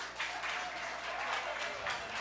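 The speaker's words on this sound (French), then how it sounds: "applaudissez-les." Audience at a church singing competition clapping for the performers, continuous applause with rhythmic bursts, fairly close, and a voice faintly under it.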